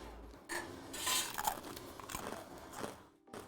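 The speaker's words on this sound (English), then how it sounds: "I'm also gonna test a crouton." Close-up crunching of someone biting and chewing crunchy salad croutons, a run of dry cracking bites over a few seconds with faint clinks of dishes, no talking.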